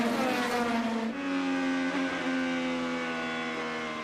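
IndyCar race car at Texas Motor Speedway slowing off the corner into pit lane, a loud close engine drone whose pitch drops sharply then holds steady and buzzing, no voices.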